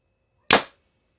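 A single sharp, loud snap of a Hoyt RX9 compound bow being shot indoors, a crisp release crack that decays quickly into silence.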